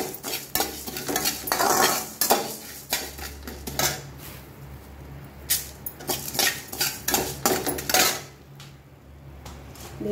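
Coriander seeds and dried red chillies dry roasting in a pan, with steady scraping and clinking of a metal spatula against the pan in irregular bursts, a faint low hum underneath.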